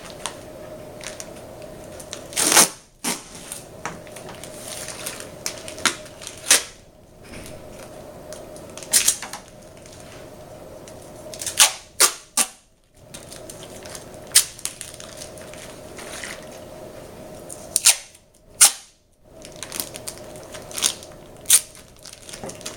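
Tape is pulled off a roll and pressed onto a simulated uterus package, heard as a series of loud ripping and crackling bursts separated by quieter gaps over a steady hum; no talking.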